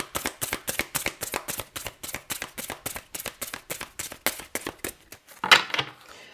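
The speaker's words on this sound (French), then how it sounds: "Je vais quand même tirer quelques cartes supplémentaires." Tarot cards are shuffled and drawn in a quick, steady run of about two dozen crisp papery snaps, fairly close and clear, ending with a final louder riffle and no talking.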